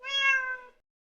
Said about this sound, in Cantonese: 貓